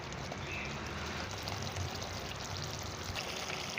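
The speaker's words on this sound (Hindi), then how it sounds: "3 चम्मच सोया सॉस के शामिल करने हैं।" Soy sauce poured into a chicken karahi, a short steady liquid stream with a soft sizzling wash, close and faint.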